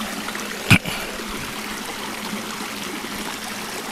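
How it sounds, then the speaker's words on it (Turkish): Water from a mountain stream in the Trabzon highlands flows and trickles steadily, a continuous close rushing babble with one brief louder knock near the start. "Duyabildiğimiz tek şey su sesi."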